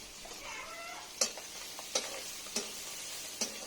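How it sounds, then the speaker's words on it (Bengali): A spoon stirs vegetables seasoned with chili powder, turmeric and salt in a pan, giving a soft sizzle with four distinct scraping knocks spaced about a second apart, quiet and close. "দিয়ে একটু নেড়ে চেড়ে নিব"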